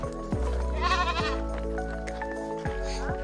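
Close, loud bleating from a goat at a temple fair in Karnataka, two or three drawn-out quavering calls with a little background chatter.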